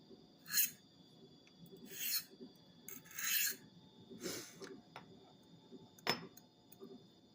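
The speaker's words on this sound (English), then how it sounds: "I just stroke this a couple of times on this Spyderco triangle file" A blade is drawn across a low-grit Spyderco triangle file in several separate rasping strokes, quiet and close, with short pauses between them.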